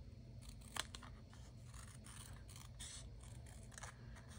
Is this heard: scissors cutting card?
yes